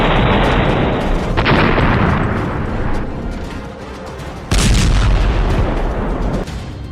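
A blast destroys an Israeli bulldozer clearing mines in Gaza. A loud, rumbling explosion roars and decays, then a second heavy boom erupts midway and rumbles on. No voices are heard.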